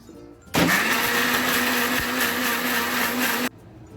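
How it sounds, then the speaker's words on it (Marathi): A kitchen mixer grinder whirs loudly and steadily for about three seconds, grinding Malvani-style masala for a surmai fry, starting and stopping abruptly with quiet room sound on either side. "आता हे मी सर्व फिरवून घेते, मिक्सरला फिरवून घेते।"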